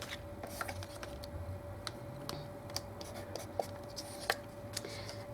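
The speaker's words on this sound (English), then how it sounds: "So I'm cutting this second section here" A piece of paper is cut to size for a handmade card, giving close, scratchy strokes and sharp little clicks at irregular intervals over a faint steady hum.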